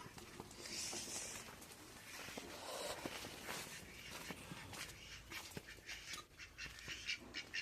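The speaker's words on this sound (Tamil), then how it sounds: "வாத்து இங்கிட்டு சவுண்டு கேட்குது" Ducks quack in scattered bursts at a moderate distance, mixed with rustling and other faint outdoor noises.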